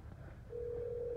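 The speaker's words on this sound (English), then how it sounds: "Let's get the sheriff on the phone because we don't feel safe with you here." Telephone call to a sheriff's department, a steady ringback tone starting partway through and holding evenly over low background hum, no voices.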